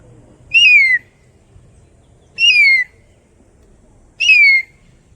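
Three evenly spaced high, descending whistled cries, a voice mimicking a kite's call, loud and clear with silence between each.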